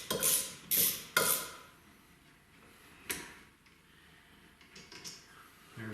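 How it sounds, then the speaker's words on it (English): A Snap-on 3/8-inch ratchet with a 14 mm socket loosening tight brake caliper bolts: three loud close clicking bursts in the first second and a half, then quieter scattered ratchet clicks and clunks. "so when I got my snap-on ratchet. 3/8 ratchet, 14 millimeter socket"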